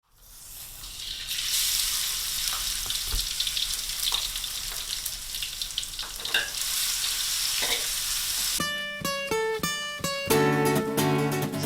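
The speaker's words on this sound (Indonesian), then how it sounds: "semua bahan isian yang terdiri dari sayur-sayuran ditumis bersama dengan bawang putih, bawang bombay, serta sedikit lada dan garam" Vegetables stir-fried with garlic, onion, pepper and salt hiss in a loud, steady sizzle with scraping stirs. Near the end, bright ringing metallic tones cut in over the frying.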